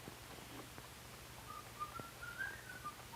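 A man whistles a short, faint, wavering melody of a few notes over a low background hum.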